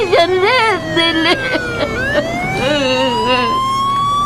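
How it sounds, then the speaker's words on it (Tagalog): An ambulance siren wails loud and close with a rising and falling, warbling tone that repeats, while a voice is briefly heard over it. "Oh, may ambulansya na."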